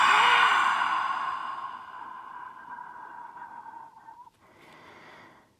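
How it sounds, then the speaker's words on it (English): A slow exhale out through the mouth during a yoga breathing exercise, a long breathy rush that fades over several seconds, followed by a softer breath. "exhale out through the mouth, inhale through the nose, exhale out through the mouth"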